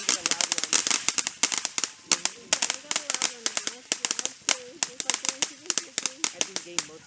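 Fourth of July fireworks and firecrackers pop in rapid, irregular crackling bursts, sharp and fairly close, continuing steadily throughout.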